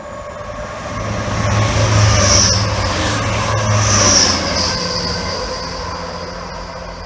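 A train passes through Grantham station, a steady loud rail rumble swelling and fading with wheel squeal and high metallic hiss peaking twice as the carriages roll by, with no talk.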